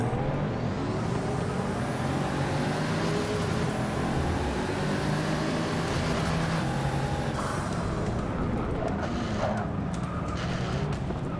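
Race car engines, including a Pagani Huayra, roar together at the start of a race in the video game Forza 7, a dense continuous drone with pitches climbing as the cars accelerate.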